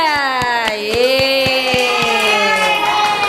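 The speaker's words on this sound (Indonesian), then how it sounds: "Tepuk tangan buat kelompok 3" A classroom group claps in a quick, regular rhythm beneath a sustained, sung-sounding voice.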